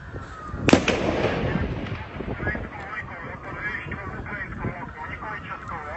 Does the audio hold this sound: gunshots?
yes